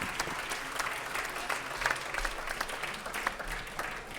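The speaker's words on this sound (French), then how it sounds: "Applaudissements pour Lucille Nourry." Applause from an audience at an environmental business award ceremony, a steady round of clapping from many hands at moderate distance, continuing without letup.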